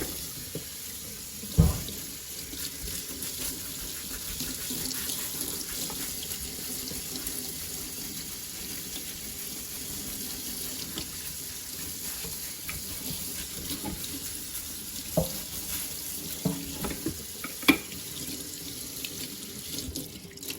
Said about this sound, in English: So now I'm going to give it one more rinse, some fresh water